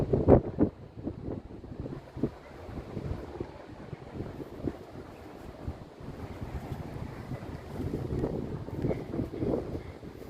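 Strong wind buffets the microphone in heavy, uneven gusts at the OCBC Skyway, with a rushing roar that swells louder near the end; no one speaks.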